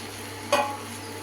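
Cut mushrooms stirred into frying masala for mushroom gravy, a single brief scraping stir over a low, steady sizzle.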